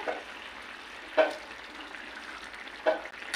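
Dried prawns and eggs go into a Telugu-style curry in a pan: a steady low sizzle and bubble throughout, with two brief clinks from stirring near the start and again later, no voices.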